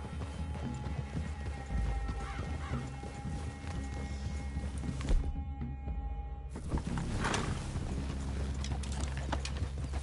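Steady clip-clop of horse hooves trotting along in the video game Red Dead Redemption 2, fairly close, with a brief dropout partway through and no voices.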